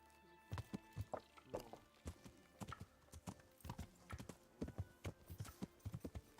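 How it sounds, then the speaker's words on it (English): Horse hooves clip-clop in a steady, fairly close trotting rhythm in the medieval game Kingdom Come: Deliverance, with sharp repeated knocks running through the whole stretch and no talk over them. "Pills, you're the most sneaky horse"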